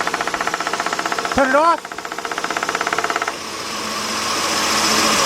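The A/C compressor on a 1998 Nissan Maxima 3.0 knocks in a rapid, regular metallic pulse that runs under a short spoken line, then the rhythm cuts out, leaving a low running engine hum.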